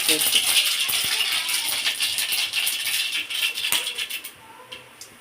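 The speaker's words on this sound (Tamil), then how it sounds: "எண்ணெய் காஞ்சிச்சு இப்போ கடுகு போட்டுடலாம்" Mustard seeds splutter in hot oil for a Chettinad thoothuvalai rasam, giving dense rapid crackling and popping that is loud and close before thinning out toward the end.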